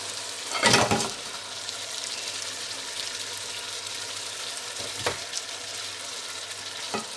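Spinach and masala frying for palak chana dal, a steady soft sizzle throughout with a louder stirring scrape near the start and another brief stir toward the end.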